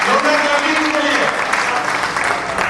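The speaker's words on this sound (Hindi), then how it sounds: "अरे वाह, ग्रेट, जोरदार क्लैपिंग के लिए।" An audience at a live event claps loudly and continuously in a dense, sustained burst of applause, with some voices mixed in.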